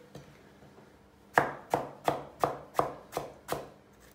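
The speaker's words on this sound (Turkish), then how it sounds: "Hemen patlıcanlarımızı bir kuşbaşı doğruyoruz." A knife chops eggplant into cubes on a board, with seven sharp, evenly spaced close chops after a quiet start, and no talking.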